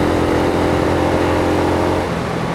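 A Mutt Mongrel 250 motorcycle engine held at wide open throttle in top gear near 70 mph, a loud, steady, droning mid-pitched roar with constant harmonic tone and wind rush, no breaks.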